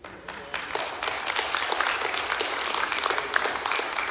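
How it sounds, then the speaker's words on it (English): A church congregation at a Sunday celebration service applauds, a dense, steady wash of many hands clapping that swells quickly and holds loud throughout. "I hope you can applaud that."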